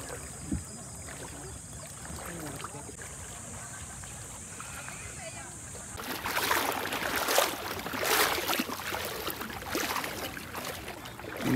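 A small outrigger boat motors across the sea off Cagbalete Island, a low steady drone that turns to louder splashing and water rush halfway through, with people talking faintly over it.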